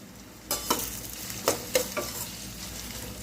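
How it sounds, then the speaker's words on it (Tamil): Sliced onions and crushed garlic sauté in a pan with a continuous close sizzle, broken by several sharp scraping clacks of a spatula stirring in the first half. "வெங்காயம் வதங்கிட்டு இருக்கிற டைம்லேயே இடித்து வச்ச ஒரு 5 பல் பூண்டு சேர்த்துக்கலாம்"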